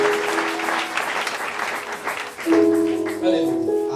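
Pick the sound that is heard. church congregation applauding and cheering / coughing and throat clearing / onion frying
church congregation applauding and cheering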